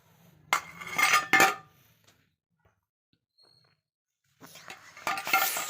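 Thick rice pudding (payesh) stirred in a pot, with two bursts of scraping spoon-on-metal noise separated by a quiet pause, close and fairly soft.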